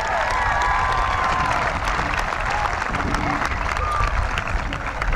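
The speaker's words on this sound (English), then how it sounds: "We could give them a round of applause." A graduation ceremony audience gives a steady round of applause for the school band, dense clapping from a large crowd filling a hall without a break.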